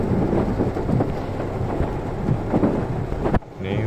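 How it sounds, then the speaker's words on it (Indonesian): Steady rain with rumbling thunder during a motorcycle ride to a tire shop, a dense wash of rainfall and low rumble that cuts off abruptly near the end. "Ini kita hujan-hujanan ini."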